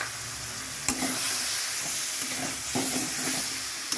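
Turmeric and Kashmiri chili powder mixed in water are poured over potatoes and spices frying in a pan for a chitol fish curry. A steady close sizzle runs throughout, with clinks from a spoon stirring the pan.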